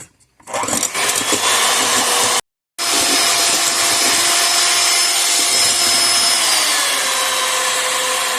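Electric mixer whisking sugar into batter for a vanilla Swiss roll, a loud continuous whirring drone broken by one brief stop near the start, close by with no talk.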